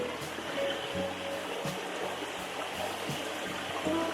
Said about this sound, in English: The babbling brook sound.